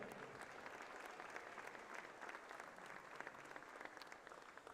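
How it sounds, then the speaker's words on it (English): Steady applause from a crowd in a gym at a girls' high school basketball conference tournament, honoring the game officials before the anthem; distant, even clapping throughout. "Please stand and show your appreciation and give a big round of applause for these outstanding officials."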